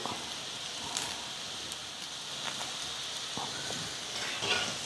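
Curry leaves hit hot oil in a pan of frying elephant yam, giving a steady, moderate sizzle with light crackles and a few soft stirring knocks, no voices.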